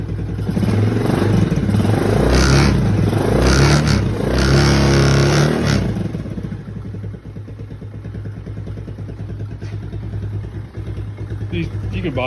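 Small engine of a kids' quad bike revving hard for several seconds, then dropping to a steady rattling idle, close by, with a voice talking over it.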